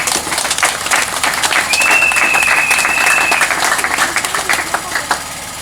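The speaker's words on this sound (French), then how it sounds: "je demande encore une fois de plus d'applaudir pour eux" An audience applauds at the inauguration of an elderly people's hospice in Kisangani, with dense, steady clapping that runs throughout, loud and close, and a faint sustained whistle-like tone partway through.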